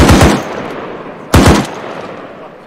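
Two loud, close bursts of rapid M2 heavy machine gun fire in a military video game, each a quick string of booming shots with a decaying echo, the second burst following about a second after the first.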